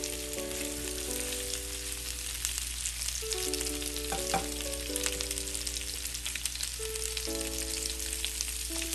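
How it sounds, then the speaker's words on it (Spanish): Potatoes frying in three spoonfuls of oil in a pan for potato quesadillas, a steady close sizzle running throughout with a soft crackle and no talking, while sustained tonal hum lines sit underneath. "En un sartén agregamos 3 cucharadas de aceite y agregamos las papas."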